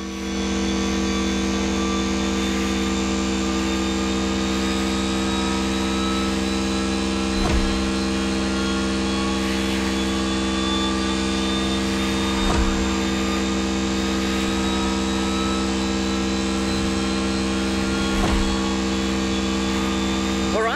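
The Silver Arrow car in the video game The Crew Motorfest gives a loud, steady, droning engine note with a rich harmonic hum, held throughout with only slight swells.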